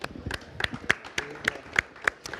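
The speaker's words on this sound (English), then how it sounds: "Can I have a round of applause for them?" A modest audience at the 2019 WISE Summit applauds the speakers, with individual hand claps landing in an uneven, fairly sparse patter, close and distinct rather than a roaring ovation.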